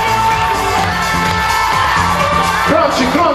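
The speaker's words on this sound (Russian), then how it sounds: "Громче, громче, громче! Аплодисменты," A lively crowd cheers and whoops at a televised beauty pageant awards ceremony, with shouts and excited voices filling the hall loudly and continuously, rising near the end.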